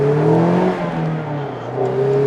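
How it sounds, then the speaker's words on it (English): A Mazda MX-5 Miata RF four-cylinder engine revs up and settles from inside the car, its pitch rising, easing off and climbing again, loud and close with no talking. "It's mostly engine noise, and it gives you that 4-cylinder sound"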